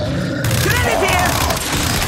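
Gunfire in the video game Gears 5, a dense, loud, continuous barrage of shots and booming impacts filling the whole moment, with battle noise layered over it.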